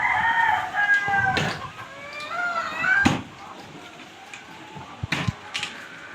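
A rooster crows clearly at the start, its drawn-out call followed by fainter clucks and scattered sharp clicks in a quiet outdoor setting.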